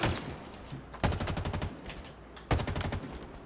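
Gunfire in the Halo Infinite video game, with rapid automatic bursts starting around one second and again near two and a half seconds, over a steady background of game noise at moderate loudness.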